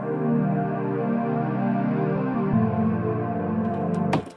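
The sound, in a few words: Sytrus ambient supersaw pad synth with wave shaper turned off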